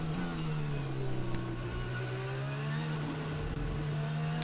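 A Formula 1 car in a 2022 British Grand Prix practice session at Silverstone sweeps through Stowe corner at over 200 km/h, a loud, steady high-pitched engine scream holding a sustained tone with slight pitch bends, alone without voices.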